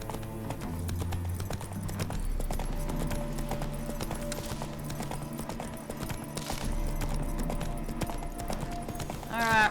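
Horse hooves clip-clop steadily at a walking rhythm in The Witcher 3, fairly close, over a bed of game music with no speech.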